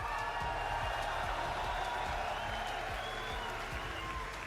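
A large arena crowd at an esports finals for Rainbow Six Siege roars with steady applause and cheering, loud and continuous throughout.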